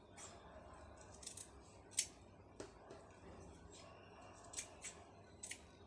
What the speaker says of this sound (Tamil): அப்போ நான் எல்லா பீஸும் அதே மாதிரி கட் பண்ணி எடுத்துடுறேன்